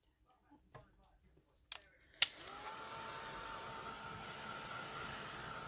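A few light clicks and taps, then a hair dryer switches on with a sharp start and runs as a steady, close whirring blow over mixed media artwork, continuing unbroken to the end.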